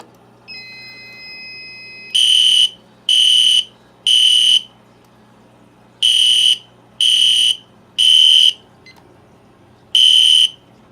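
A fire alarm, an i3 unit triggered in a test with a pencil, sounds in loud repeating bursts of harsh high-pitched buzzing tone in a three-beat pattern with pauses, after a faint brief beep, alone and near.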